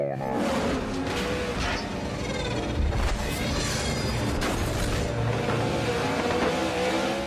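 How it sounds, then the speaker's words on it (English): A racing car's engine blows up, heard as a roaring, revving motor with bursts and a sharp blast partway through, fairly distant with constant crowd or track noise behind it. "Let's look at that engine blowing up."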